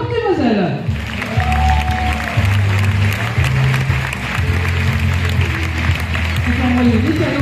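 Audience applause at an evening sports awards ceremony, a sustained crowd clapping heard alongside background music throughout.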